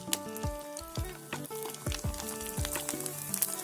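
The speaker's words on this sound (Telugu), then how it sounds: "ఆయిల్ బాగా వేడవాలి, వేడైన తర్వాత వడియాలను వేసుకోవాలి।" Tomato vadiyalu deep frying in hot oil in a kadai: a close, steady sizzle with bubbling crackles and repeated popping bursts.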